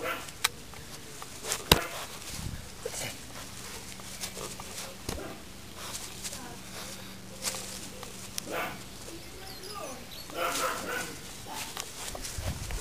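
A small dog whimpers and yips in short bursts amid scuffling and handling noises, with occasional sharp knocks close by.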